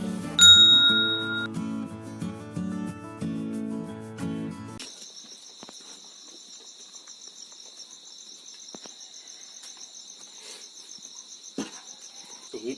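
A bright bell chime rings out once at the start over a short musical sting, then gives way to a steady, thin high-pitched insect-like trill that runs continuously underneath, with faint scattered taps.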